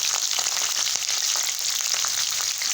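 A few garlic cloves drop into hot oil in a pan and fry with a loud, continuous sizzle and crackle, dense with small pops and light stirring scrapes, no voices.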